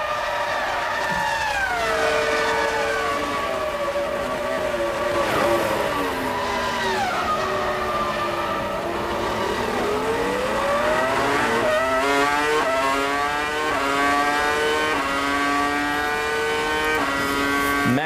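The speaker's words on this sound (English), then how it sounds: "Massive straight line speed as we listen to the Ferrari." A Ferrari Formula 1 car from the F1 2003 racing game screams along a fast straight at Monza, its high-revving engine wailing continuously and loud, with pitch dipping on downshifts and climbing steeply through the gears.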